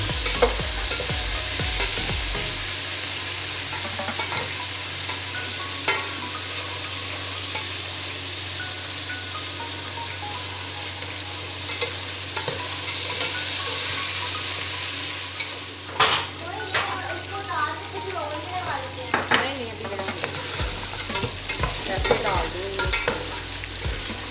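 Ingredients for Afghani pulao are stir-fried in a pot, giving a steady close sizzle and frying hiss throughout, with intermittent scrapes and clinks of a spoon against the pot and a brief voice in the background.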